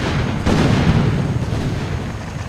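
Grenade blasts in the video game ARK, an initial detonation with secondary explosions, roll together into a loud, continuous low rumbling boom that swells after the first moment and slowly fades.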